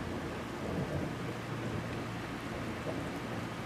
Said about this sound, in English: Yeah, and I can hear thunder.